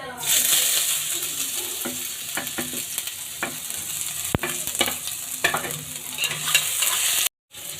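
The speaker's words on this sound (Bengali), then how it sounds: "এবারে দিয়ে দিচ্ছি গ্রেট করে রাখা আদা কুচি।" Grated ginger frying in hot oil in a kadai, a continuous close sizzle broken by repeated scraping stirs of a spatula, then a brief cut to silence.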